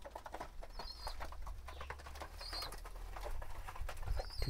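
Pigeons coo softly in low, repeated murmurs while feeding, with scattered quick pecking and rustling taps close by and a faint hum underneath.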